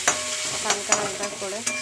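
Turmeric and salt fry in a pan for a vegetable and egg Maggi dish, a close continuous sizzle broken by several sharp scraping strokes of a spatula, with no voices.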